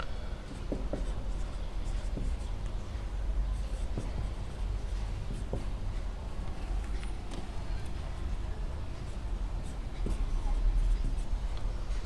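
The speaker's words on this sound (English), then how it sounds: "I'm writing here." Pen or marker strokes scratching steadily across a writing surface during a classroom lesson on animal nutrition, with scattered small taps amid a constant low background hum.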